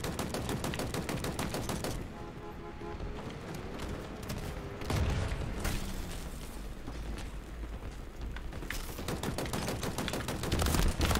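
Gunfire rattles through a shooter video game in rapid, dense bursts like automatic weapons, with a short lull before heavy firing resumes and continues steadily.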